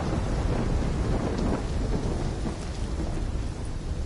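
A thunderstorm rolls through in the Black Ops 3 campaign, with dense, continuous rain and low rumbling thunder throughout, loud and enveloping with no talk.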